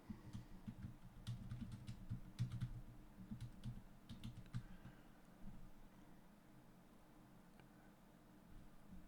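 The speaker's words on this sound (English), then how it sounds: "we can type this command" Keys tapped on a computer keyboard to enter a Linux command, quick irregular clicks close by for a few seconds, then a quiet hum.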